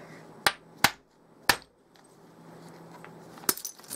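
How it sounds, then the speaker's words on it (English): Sharp, hard clacks of a hammer stone striking Kentucky hornstone with thick chalky cortex: three quick knocks, a pause, then another strike with a short rattle, in quiet surroundings. "This chalk, it absorbs the blow of the hammer stone"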